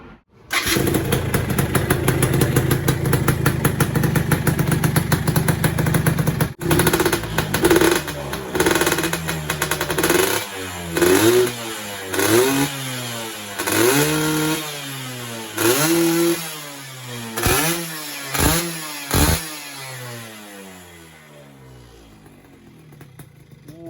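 A motorcycle fitted with an FJP aftermarket exhaust starts and idles loudly and steadily up close, then blips through a series of sharp, rhythmic revs that rise and fall before settling back down.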